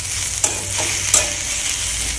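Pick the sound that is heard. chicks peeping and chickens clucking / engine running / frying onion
frying onion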